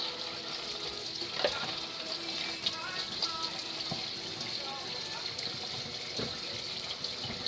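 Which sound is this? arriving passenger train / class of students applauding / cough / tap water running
tap water running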